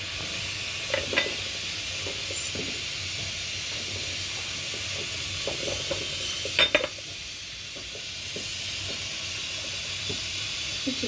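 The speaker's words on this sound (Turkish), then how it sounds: "Bak soğanımız da kaynıyor bu arada." Onions sizzle steadily in a pan while cooking for eggplant kavurma, a soft continuous hiss broken by a few scattered clacks of stirring, louder near the middle, with no talking.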